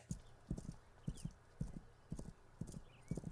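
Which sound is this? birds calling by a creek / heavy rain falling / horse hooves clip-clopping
horse hooves clip-clopping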